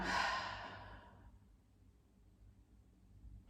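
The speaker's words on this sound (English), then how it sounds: "Now we're going to take 2 full deep breaths, so breathe in and let everything go." One person takes a deep breath and lets out a slow, audible exhale, a breathy sigh that fades after about a second into quiet room noise, heard close and soft during a children's stretching exercise.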